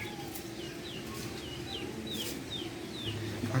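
Soft, steady clucking from chickens nearby over a low background hum, with a few faint chirps drifting above.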